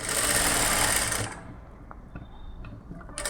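A sewing machine stitches along the canvas edge of a blouse neckline, a loud steady whir for about a second before dropping to faint mechanical ticks and light handling noises.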